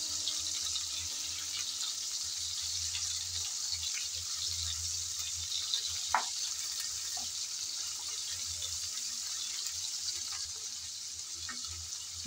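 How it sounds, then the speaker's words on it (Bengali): Spicy prawns fry lightly in a pan, a steady, soft sizzle and hiss running unbroken for about twelve seconds at close range, with one small pop and no one talking. "হালকা করে নেড়ে চেড়ে আমি প্রথমে মাছগুলো ভেজে নেব।"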